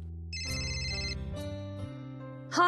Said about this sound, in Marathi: राधिकाचा फोन.